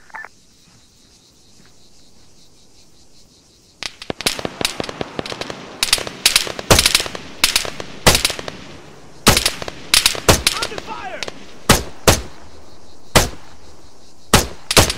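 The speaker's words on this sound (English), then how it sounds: "Machine gun, 300 meters southeast." Machine gun fire in the military shooter Arma 3, a quiet opening giving way to loud, sharp bursts and single cracks in an irregular rhythm, some near and some more distant, with a brief voice early on.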